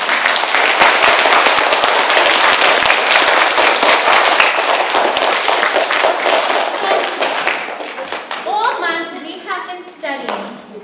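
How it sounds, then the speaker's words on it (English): Loud, dense clapping from a school assembly audience fills most of the stretch, thinning out toward the end as children's voices and chatter take over. "let's give a little round of applause for that as well."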